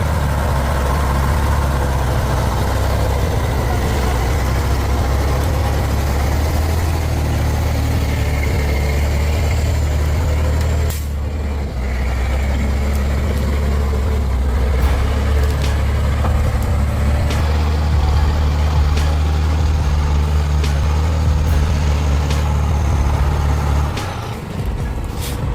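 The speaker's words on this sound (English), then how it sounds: "For 4 hours of struggle, the engine roared hoarsely." Heavy truck engine labouring in deep mud, a loud, hoarse low rumble that drones continuously with shifting revs, a brief dip midway and a hiss like an air brake near the end.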